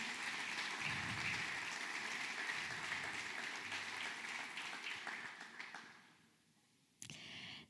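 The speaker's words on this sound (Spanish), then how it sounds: "Aplaudamos bien al Señor." Congregation applauding during a Spanish-language church service, a broad wash of clapping that fades out toward the end before a brief final burst.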